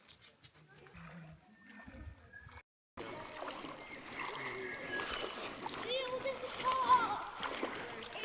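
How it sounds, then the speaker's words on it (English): Footsteps splash and slosh through shallow water at Ormiston Gorge, with a quiet stretch and faint voices before a sudden rise to continuous close splashing and churning water, loud and busy, with light talk mixed underneath. "Just have to walk across the water here."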